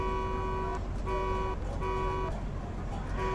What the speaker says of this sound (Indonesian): Oke, sekarang klakson.